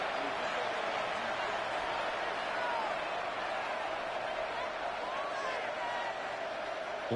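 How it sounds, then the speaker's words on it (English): A dense, steady roar from a football stadium crowd in a video game fills the whole stretch at an even level, with faint cheering textures and no clear breaks. "Listen to this crowd now."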